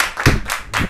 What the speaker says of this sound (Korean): 박수로 시작해서